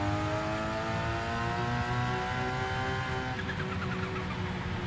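A race-tuned car exits a corner at full throttle, its engine note climbing steadily and loudly through the rev range before easing off briefly near the end, with no voice over it.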